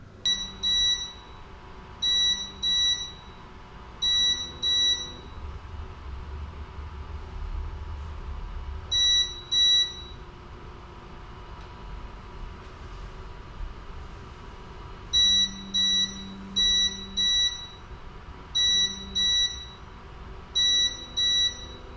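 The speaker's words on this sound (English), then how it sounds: "It's a lot of beeping. I thought something was going wrong." Qidi i-fast 3D printer sounding repeated short high electronic beeps in clustered bursts with pauses between groups, fairly clear over a low steady machine hum and room noise.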